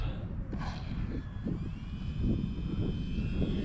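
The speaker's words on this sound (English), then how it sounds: "so that you can get a good view of that plane coming in, how it lands" Small beginner RC model airplane coming in to land on a runway, its electric motor a thin high whine from a distance over steady wind rumble near the microphone.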